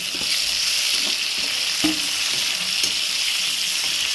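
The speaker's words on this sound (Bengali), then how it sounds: "এরকম পেঁয়াজ ভাজা হয়ে গেছে। এবার টমেটোগুলো দিয়ে দিলাম।" Tomatoes hiss and sizzle as they are stirred into fried onions in a hot pan, a steady loud frying sound with a few scraping stir knocks and no talking.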